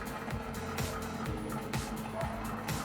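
A 1991 Suzuki Cappuccino with a swapped RX-7 rotary engine, around 600 horsepower on soft racing tyres, races in Gran Turismo 7; a high, busy engine drone stays steady throughout, broken by rhythmic shift pulses and brief tyre noise.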